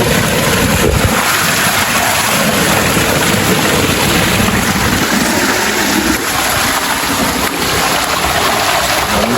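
Broad, steady rush of a waterfall and natural stream at a scenic spot near Laplae in Thailand, a continuous loud wash of flowing water filling the whole clip with no voices.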